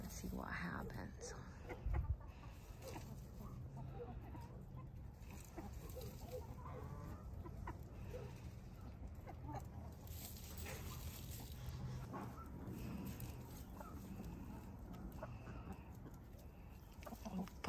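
A mixed flock of chickens clucks and murmurs softly nearby in an uneven, scattered pattern, with occasional sharper calls and faint voices mixed in.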